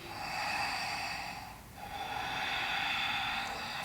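Deep, full breaths during a yoga session: a long, airy inhale-exhale with a brief pause in the middle, close and steady, with no talk.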